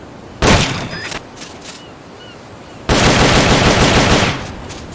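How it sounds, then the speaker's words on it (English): An M16 assault rifle fires in two loud, rapid automatic bursts in the video game Metal Gear Solid: Peace Walker, a short volley followed after a pause by a longer sustained stream of shots. "The M16's a standard assault rifle, capable of rapid fire."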